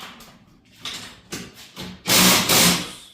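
A new garage door spring being tightened with tools, producing intermittent knocking and clanking followed by a loud, sustained grinding ratchet-like burst that dominates the second half.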